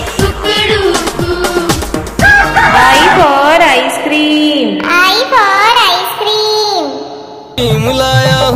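A cartoon rooster crows in a children's alphabet song, its stretched, melodic calls ringing out several times over music and a child-like singing voice.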